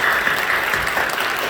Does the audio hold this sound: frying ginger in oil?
no